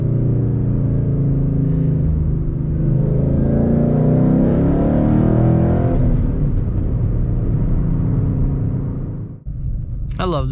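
Tuned Ford Mustang GT with a six-speed manual, muffler delete and Roush axle-back exhaust, revving loudly and building to a deep roar, then dropping off abruptly near the end.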